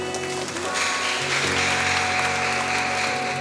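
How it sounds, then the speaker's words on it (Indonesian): A church congregation claps steadily for the choir after its song, a dense, sustained wash of applause from a crowd in a reverberant hall. "Dan untuk KOR kita beri ucapan selamat, kita beri aplaus"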